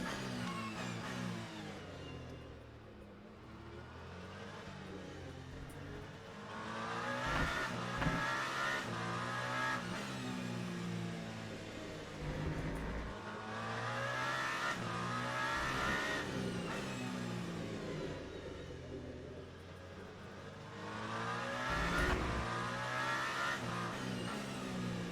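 A heavily loaded race car in the sim racing game Le Mans Ultimate at Fuji, its engine revving through repeated rising and falling gear sweeps as it laps, fairly quiet and continuous with no talk.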